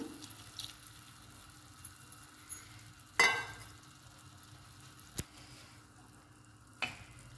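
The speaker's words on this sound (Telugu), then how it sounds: "గోంగూరని ఐదు నిమిషాలు ఆయిల్లో ఉడికించుకోవాలండి" Gongura leaves cooking in oil with water added produce a faint, low sizzle broken by a few sharp pops and clinks, one louder splash-like burst near the middle, in a quiet kitchen.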